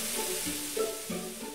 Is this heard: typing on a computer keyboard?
no